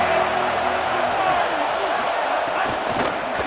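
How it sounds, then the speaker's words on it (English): Broadband roar of a stadium crowd in the EA Sports College Football 27 video game, loud and continuous, with a commentator's voice over it. "This crowd ready to make its presence known."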